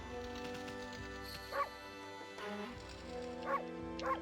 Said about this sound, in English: there's a dedicated bark button